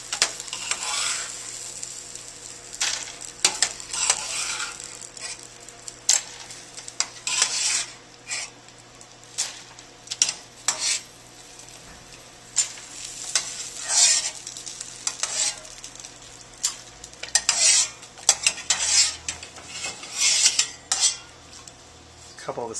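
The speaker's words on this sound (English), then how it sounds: "now we're using the slotted spoon, and we're going right into our ice bath" A slotted spoon clinks and scrapes against a pot as shrimp are stirred and scooped out for an ice bath, with irregular metallic taps and stirring sounds near and fairly quiet.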